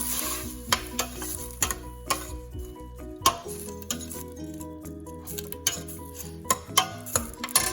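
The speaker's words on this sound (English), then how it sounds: "1 cup of leek and 1 cup of celery. Cut in small pieces. Put in there. Cook, let it cook for a couple of minutes." Chopped leek and celery cooking in a soup pot, a soft sizzle broken by sharp clicks and taps of a utensil against the pot, fairly quiet and close, with no talking.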